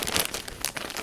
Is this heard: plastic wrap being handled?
yes